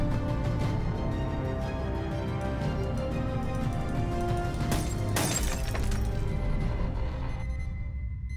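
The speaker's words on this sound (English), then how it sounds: "Oh, there it is, the fire alarm. I can quickly break the glass." Glass on a fire alarm smashes inside the video game Radiant One, a single sharp shattering burst about midway through, set against a steady, fairly loud background drone.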